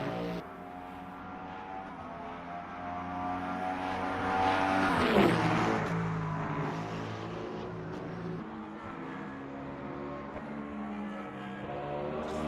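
Hypercar engines in the racing game Le Mans Ultimate drone and whine together in a continuous layered roar, swelling to a louder pass near the middle before settling back into a steady engine hum.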